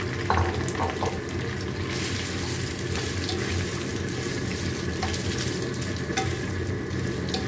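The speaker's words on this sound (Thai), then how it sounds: "พอน้ำมันร้อนเราก็เอาหมูยอลงไปทอดก่อนนะคะ" Slices of Thai pork sausage (moo yor) fry in hot oil, giving a continuous close crackling sizzle with scattered pops and no voices.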